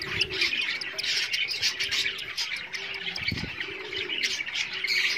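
A flock of crested cockatiels in breeding boxes keeps up a dense, continuous chatter of shrill chirps and calls, with some lower cooing tones underneath, fairly close and without speech.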